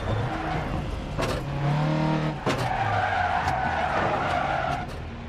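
A rally car in Dirt Rally 2.0 skids loudly after a handbrake pull, with sustained tire squeal and scrubbing over a revving engine and a few sharp bumps.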